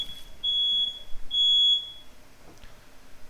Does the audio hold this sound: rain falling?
no